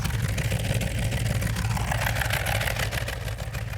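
A 1970 Dodge Challenger 440 Six Pack V8 idles steadily with a deep, rumbling, throaty exhaust note, loud and close, holding a constant low drone throughout, at a car show.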